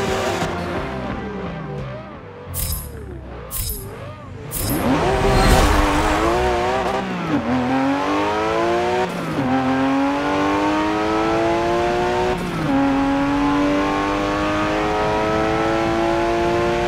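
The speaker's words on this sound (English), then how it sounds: "Here we go, 1987 Porsche 959." A 1987 Porsche 959 engine racing in Forza Motorsport 7 revs hard and shifts through the gears, the pitch sweeping up and dropping back again and again, loud and close throughout, with a brief tire squeal early on.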